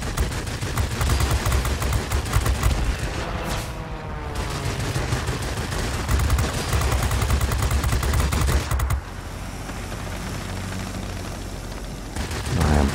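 Rapid, sustained automatic gunfire from a weapon in the aerial combat game Butcher Bird, loud and continuous with dense bursts and a brief lull near the middle, with no talking.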